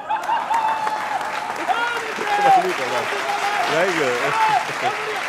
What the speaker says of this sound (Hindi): इस पे इसलिए तालियां बज रही